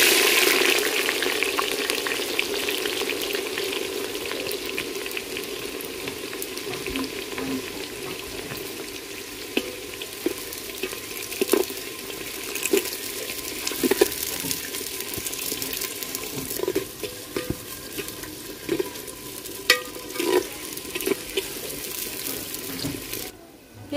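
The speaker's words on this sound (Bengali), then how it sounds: "ফোড়নটা হালকা ভাজে নিছি, এখন দিয়ে দেবো পেঁয়াজ কুচি।" Chopped onion added to hot oil with tempering spices for handi chicken, a loud, continuous hiss of frying that gradually settles, with scattered scraping and stirring knocks over the long stretch, no speech.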